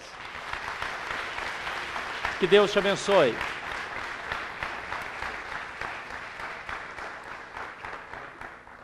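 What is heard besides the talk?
applause from church congregation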